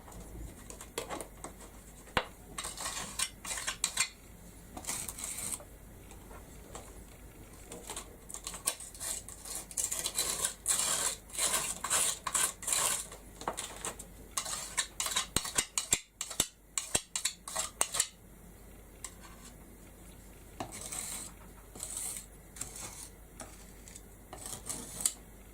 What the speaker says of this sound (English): Need to scrape that off straight away because I don't want it to damage my stencil.